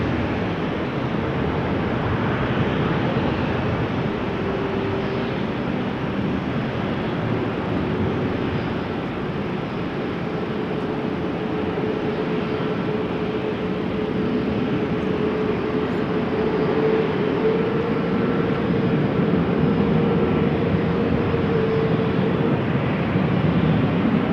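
A Fokker airliner at a rainy Amsterdam Schiphol Airport gives a steady, loud broadband roar with a faint sustained engine whine running through it for the whole stretch, with no voices.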